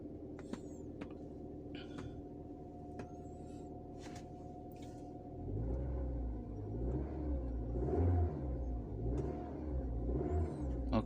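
A car engine idles steadily, then revs up as the accelerator pedal is pressed during a crankshaft speed sensor check, the rumble rising and wavering loudly and close by with no talk.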